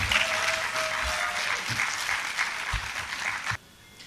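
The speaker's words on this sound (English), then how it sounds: "can I have a powerful round of applause for our guest speaker" Audience at a leadership forum giving a round of applause for a guest speaker, dense steady clapping from a crowd that holds for over three seconds and then cuts off abruptly.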